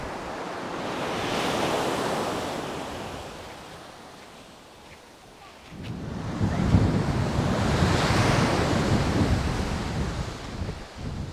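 Waves at Akiha beach roll and wash ashore in a broad, continuous surge that swells, eases off and builds again, mixed with gusty wind buffeting the microphone.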